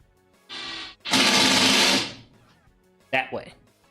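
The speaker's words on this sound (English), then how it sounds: "start setting, pre-drilling and setting a few screws" A power drill pre-drilling and driving screws into a wooden CRT stand: two close, loud whirring bursts, the first short and the second longer, followed by a brief clatter.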